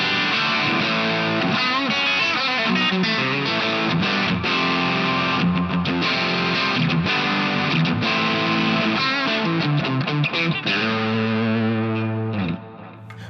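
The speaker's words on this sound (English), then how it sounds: "If I press this button down here, I go down to my other preset, which is like a, I don't know, it's like a distortion kind of thing." An electric guitar plays through the distortion preset of an XTONE iOS audio interface, loud saturated chords and riffs with a chorus-like shimmer, played alone with no voice, fading slightly at the end.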